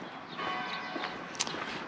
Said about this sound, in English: Oh, there they are, they're ringing the bell.